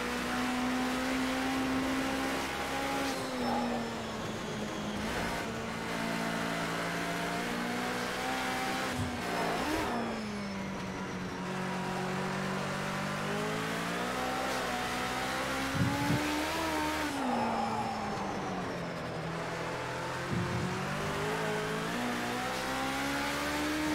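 Race car engine in a racing sim such as iRacing or Dirt Rally 2, revving steadily through gear changes with rising and falling pitch, loud and continuous for the whole stretch, with occasional tire noise and no talk.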